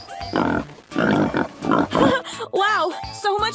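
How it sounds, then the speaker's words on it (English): In a cartoon animal transformation game, a pig oinks and grunts in several short bursts, loud and close, mixed with cheerful voices and game sounds. "Pig."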